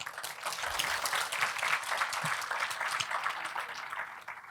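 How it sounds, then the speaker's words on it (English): An audience at a speaking session breaks into steady, moderately distant applause, a dense patter of many hands clapping that lasts several seconds and tapers slightly at the end. "one big applause for you here."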